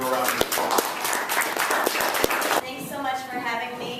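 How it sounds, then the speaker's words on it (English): A community audience bursts into dense applause, crisp claps piling over a murmuring crowd with voices and cheers mixed in, thinning out toward the end. "Give her a round of applause"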